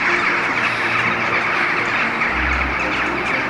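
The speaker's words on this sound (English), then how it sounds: "the crows and rooks have roosted in their beautiful noisy fashion" A dense, continuous chorus of many crows and rooks settling at their roost caws and chatters at once, a noisy wash of calls with no talking.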